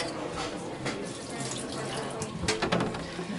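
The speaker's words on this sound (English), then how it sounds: "And then rinse with distilled water." Surgical instruments are rinsed under running distilled water at a sink, a steady close splashing stream with brief clinks of metal near the end.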